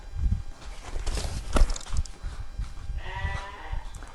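Sheep, rams and ewes at a livestock sale, bleating in several close calls with a longer, strained bleat near the end, over shuffling, hoof knocks and general market bustle.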